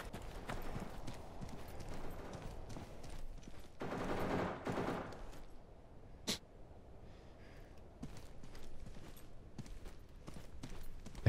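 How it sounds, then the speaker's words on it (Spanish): Distant gunfire crackles in bursts across a Deadside match, with scattered shots and a denser flurry midway, alongside footstep-like clopping and game ambience; no talk is heard. "Vamos a tratar de acercarnos a los tiros, boludo."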